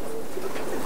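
A racing pigeon held in hand coos softly in a short, low murmuring burst, close and fairly quiet.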